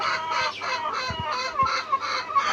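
Layer pullet hens in a farm shed cluck in a dense, continuous chorus of overlapping calls, close and loud, with a few low thumps.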